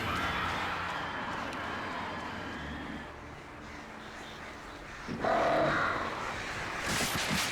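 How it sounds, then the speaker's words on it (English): Crows cawing in the Alan Wake video game, a steady wash of game ambience with bird calls throughout and a louder burst near the end, with no talk. "I swear I heard a voice behind me. Oh, it's just birds."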